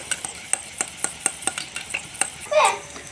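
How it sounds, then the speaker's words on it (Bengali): Sour yogurt with a little salt is beaten in a bowl, giving a quick, steady series of light clinks against the bowl that ends in a short scraping swirl, close and clear, with no talking. "দইটাকে আমি ভালো মতো ফেটিয়ে নিচ্ছি।"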